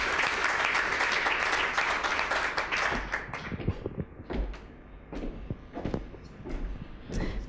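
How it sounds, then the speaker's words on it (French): Applause from a conference audience at a business forum on women's role in companies, full and steady at first, then thinning into sparse, scattered claps that trail off. "Je pense que vous n'avez pas applaudi assez fort"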